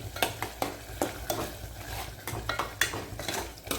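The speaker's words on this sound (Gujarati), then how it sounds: "મસાલો આપણે ઉમેરી દીધો હવે આપણે હલાવી દઈએ" Paneer and spinach with masala stirred in a pan, a spoon scraping and clinking against the metal in a steady rhythm of close, sharp strokes over a faint sizzle.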